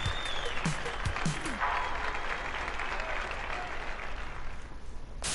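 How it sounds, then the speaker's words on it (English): Crowd applauding and cheering in the video game Hotline Miami 2, a steady wash of clapping and cheers with a few game sound effects early on and a voice talking over it. "They're still cheering as the man puts his mask on."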